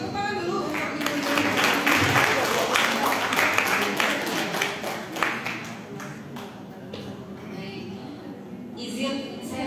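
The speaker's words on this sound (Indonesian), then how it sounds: "Kita beri tepuk tangan dulu untuk Ibu." An audience at a national education seminar claps for a presenter with continuous, moderately loud applause that begins to thin toward the end, while a voice talks over it.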